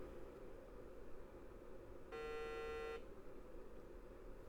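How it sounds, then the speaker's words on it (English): One steady electronic beep, just under a second long, from an early-1990s Pionex 486 computer's BIOS error code, sounds over a low background hum, with silence before and after. "So 10 beeps."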